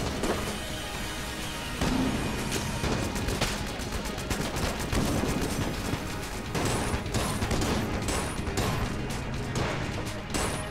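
The Crestfaller gun firing repeatedly in the game Enter the Gungeon, a rapid series of loud sharp shots with clanking impacts and crashes mixed in, continuing steadily across the whole passage.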